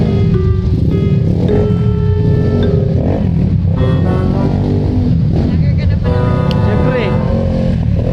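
A repaired motorcycle engine runs loudly nearby with a rough, throbbing idle and slight revs, with people talking over it throughout.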